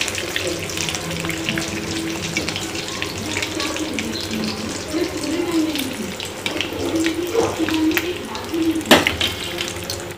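Food frying in a pan in a home kitchen, a steady broadband sizzle running continuously throughout, with a few brief clinks and a louder knock near the end.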